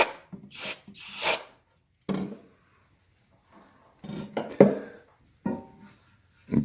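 A rag wipes and scrubs out a Harley primary case with carburetor or brake cleaner, giving short, close rubbing and scraping bursts separated by quiet gaps.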